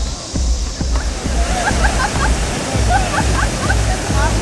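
Rushing river water at Athirappilly waterfall in Kerala, a steady broadband roar with sloshing and splashing, people talking and calling out over it throughout.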